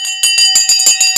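A bell struck repeatedly at the opening of a live stock market broadcast: about seven quick, bright, ringing strikes with sustained metallic overtones, loud and close, with no talking.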